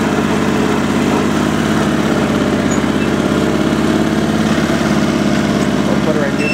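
Sears SS/16 twin garden tractor engine idling in neutral with a knock, a steady loud mechanical chugging rumble close by, continuous and even, with no talk over it.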